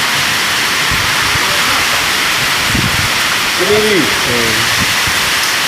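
Heavy rain with large, thick hailstones pounds down as a steady, loud broadband roar, with short voices speaking briefly beneath it.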